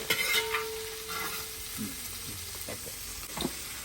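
Beef going into fried masala in a pan for a Kerala beef curry, giving a close sizzle with a few stirring scrapes and knocks.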